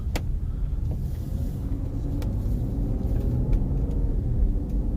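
A Volkswagen car on a test drive down the road gives a steady low rumble of engine and tire noise with road vibration, plus a few faint clicks and knocks from inside the cabin.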